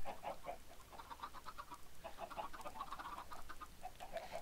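Video game chickens cluck in short, repeated bursts throughout, a busy flock-like chatter with a faint background hum and no talking.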